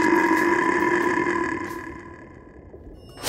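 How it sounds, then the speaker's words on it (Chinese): A cartoon sheep from Pleasant Goat and Big Big Wolf lets out one long, drawn-out burp that starts loud and slowly fades. It is heard alone, ending with a short noisy burst. "懒羊羊，快打嗝！"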